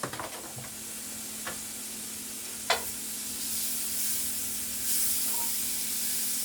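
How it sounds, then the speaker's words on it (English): Butter melting in a pan before scrambling eggs gives a steady, soft sizzling hiss close by, with a couple of brief light clinks early on and no talking. "I'm going to throw a little bit of butter in there so that I can scramble the eggs"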